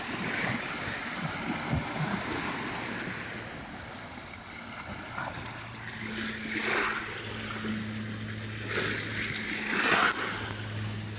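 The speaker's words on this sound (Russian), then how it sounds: "Сейчас находимся на городском пляже." Waves wash onto the city beach of Lake Baikal in steady, moderate surges, with wind noise brushing the microphone and a faint low engine hum from a boat drifting in and out.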